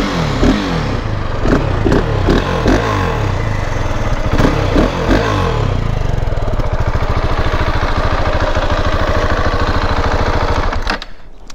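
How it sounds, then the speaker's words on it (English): A 2021 KTM 690 Enduro R with its big stock exhaust runs close and loud, a rough, uneven throb with a few blips early on, then a steadier idle before cutting off abruptly near the end. "Noisy KTM engine."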